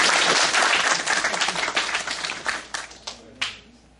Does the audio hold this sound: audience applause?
yes